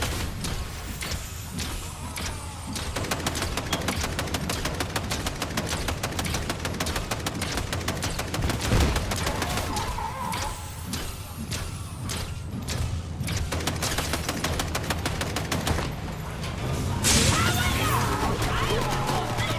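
Gunfire and vehicle ramming in the Fortnite video game, with dense rapid bursts of shots, crashing thuds and mechanical clatter running almost continuously at high level, a heavier impact near the end.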